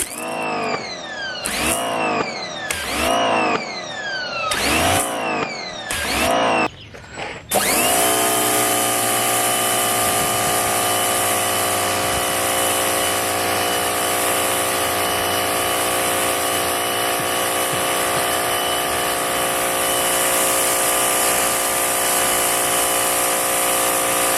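A Parkside PHD170 B2 pressure washer fitted with a turbo nozzle gives several quick revving surges, then settles into a loud, steady motor hum and hiss of water spray that runs unbroken to the end.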